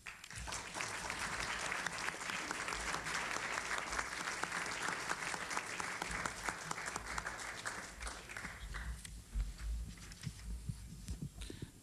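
An audience at the National Press Club breaks into steady, sustained applause to welcome a speaker, filling the room for several seconds before tapering slightly.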